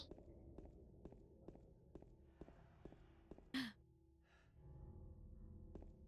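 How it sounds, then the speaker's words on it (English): Footsteps fall in a regular rhythm as a character from the video game Silent Hill 2 moves along, then one sharp, breathy gasp stands out. A softer breath follows, with a low background ambience underneath. "He's really gasping for breath."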